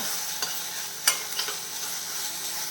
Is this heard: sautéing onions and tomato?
yes